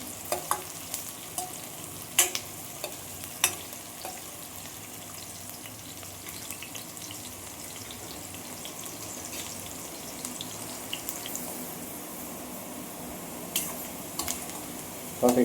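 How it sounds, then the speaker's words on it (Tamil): Onions sautéing in a pan toward golden brown for a quail egg mushroom gravy, a continuous close sizzle broken by repeated sharp clinks and scrapes of a spoon against the pan, with no voices. "வெங்காயம் நல்லா வந்து கோல்டன் ப்ரௌன் ஆகிற வரைக்கும் நல்லா வதங்கணும்"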